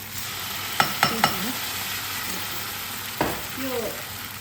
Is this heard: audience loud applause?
no